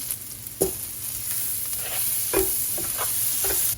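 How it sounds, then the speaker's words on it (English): Half the garlic browns in a pot for a one-pot Thanksgiving dish, giving a steady close sizzle with a few sharp stirring clatters throughout. "Now we're going to add half the garlic. And we're going to brown that first before adding the onion."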